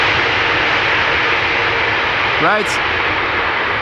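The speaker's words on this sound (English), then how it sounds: "The airplane landed, no issues." Loud, continuous roar of an airplane's engines as it lands on a runway, a broad steady rumble with a brief voice cutting in partway through.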